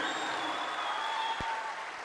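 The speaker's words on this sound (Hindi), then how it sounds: "अब घरे के लड़का के जोरदार ताली के साथ स्वागत होने के चाहिए।" A stage-show audience at a Bhojpuri performance applauds to welcome a performer, steady dense clapping from a crowd that thins slightly toward the end, with no voices over it.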